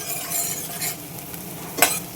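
Onions and garlic fry in oil for a pounded pickle, a steady sizzle with stirring scrapes and one sharp clink near the end, close and alone.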